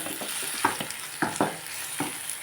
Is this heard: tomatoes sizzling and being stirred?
yes